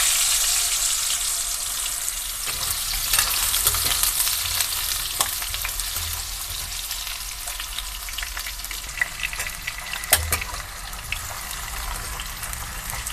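Cut potatoes hit hot mustard oil in a pan for a mutton and potato curry, giving a loud, steady sizzle with scattered sharp crackles and pops throughout.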